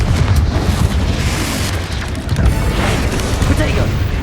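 A loud, dense blast from the Confringo fire spell in the Hogwarts Legacy wizarding game, a sustained booming burst with crackling debris.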